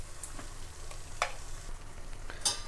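Mutton pieces fry in a kadai and get stirred, a soft constant sizzle with a few faint scraping clicks spaced out across the clip, and no one talking.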